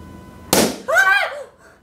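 Balloon bursting after citrus peel juice is squeezed onto it, a single sharp loud pop followed by a short excited voice reaction.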